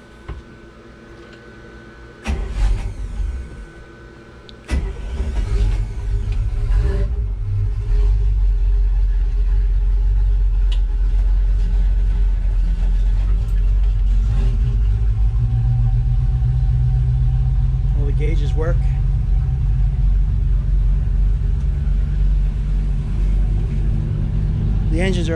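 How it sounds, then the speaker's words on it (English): The engines of a Tiara 2900 Open boat crank and catch after a couple of sharp starts, then settle into a loud, steady low rumble of idling that continues close by. "I'm going to fire up the engines now."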